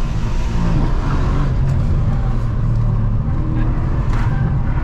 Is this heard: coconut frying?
no